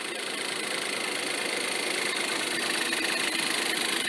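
A two-liter turbocharged EcoBoost four-cylinder engine idles after a cold start, giving a steady, even hum with a slight buzzing vibration, close and constant.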